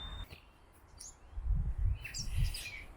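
Chickadees chirp in short, high calls scattered across a quiet outdoor background at Rome Point, Rhode Island, with faint low rustling beneath them.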